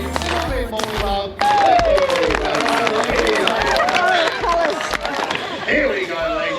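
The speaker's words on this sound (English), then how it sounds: "They won't come out until they get some applause." A crowd at a chicken racing event in Tambo, outback Queensland, claps and cheers in scattered bursts, with someone talking loudly over the applause and crowd chatter.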